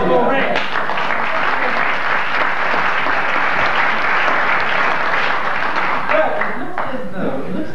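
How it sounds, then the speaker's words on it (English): Sustained theatre audience applause, loud and dense, a steady wash of many hands clapping that holds for the whole stretch, with a faint voice or two under it. "ladies and gentlemen, a warm round of applause for Ray."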